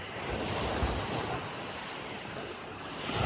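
Waves wash onto the shore at Sleeping Bear Dunes, a continuous broad rush of surf mixed with wind noise on the microphone, steady and close, with no talking.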